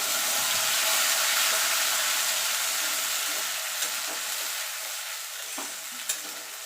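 Ground ginger, garlic, onion, green chili and tomato masala frying in a pan, a loud hissing sizzle that settles slightly as it cooks, with occasional light stirring taps.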